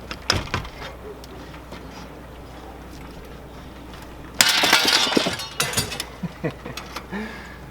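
Shop window glass smashing as it is pried out of its frame during a window replacement: loud crashing breakage with tinkling shards, preceded by scraping and clinking work noises.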